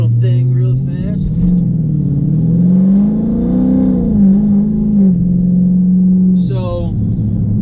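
A Dodge Charger 392 V8 with a Diablo Sport tune makes a quick pull, a loud close engine roar that rises in pitch, holds, then settles back, dominating throughout with no talk over it.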